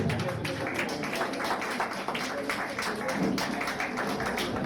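Audience at a Diwali gathering for senior citizens clapping continuously, a steady patter of many hands at moderate volume, with a voice speaking over it.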